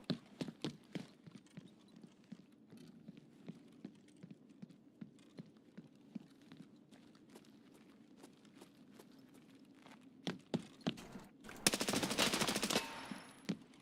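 9x39 rifle fire in the Escape from Tarkov video game: a string of sharp, evenly spaced single shots, fairly faint, then a denser burst of noise near the end.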